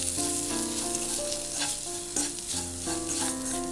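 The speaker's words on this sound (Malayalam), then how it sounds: "ഇനി ഇതിലേക്ക് ബിരിയാണി മസാല ചേർക്കാം. ഈ മസാല ഒന്ന് വഴറ്റിയെടുക്കണം." Biryani masala sautéing in hot oil for a vegetable paneer dum biriyani, a steady close sizzle with repeated scraping stirs of a spoon against the pan and no voices.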